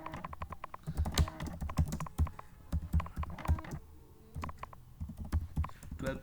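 Rapid typing on a computer keyboard while writing code, a dense, irregular stream of close key clacks with brief pauses.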